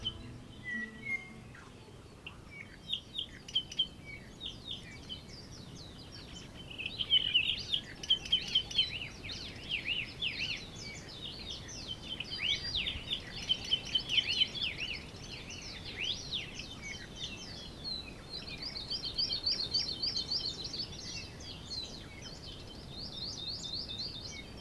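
Rare Hawaiian forest birds sing in a quiet forest, high thin chirps and rapid trilling phrases that start sparse, then overlap from several birds at moderate distance over faint background rustle.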